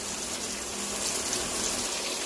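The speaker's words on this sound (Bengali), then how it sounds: "এই জলটা মশলার সঙ্গে দিয়ে দিলাম" Water is poured into a spice paste for a homestyle chicken curry, a steady close rush of liquid for a couple of seconds with no talk.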